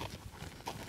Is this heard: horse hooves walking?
yes